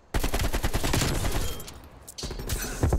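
Heavy automatic fire from a Call of Duty Black Ops Cold War match starts abruptly and rattles on densely for nearly three seconds, loud and close, with a brief dip before resuming.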